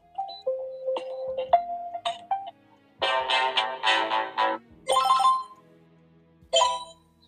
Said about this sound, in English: Let's go ahead and check out some of the ringtones on here.